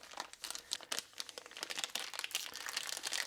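Plastic packaging crinkles and crumples as a Garmin Varia RTL515 bike radar tail light is unwrapped, with busy, irregular rustling bursts close up throughout.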